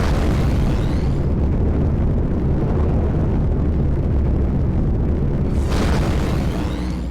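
Spaceship burst boost in Rebel Galaxy Outlaw, a loud steady roaring thrust that holds for several seconds, then a fresh whooshing surge near the end as the engine rumble continues.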